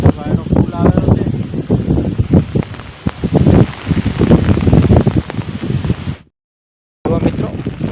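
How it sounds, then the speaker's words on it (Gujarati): Heavy rain falls steadily over farm fields of castor plants, a constant hiss beneath someone talking nearby, with a brief full cutout near the end. "જુઓ મિત્રો, આ વરસાદ છે."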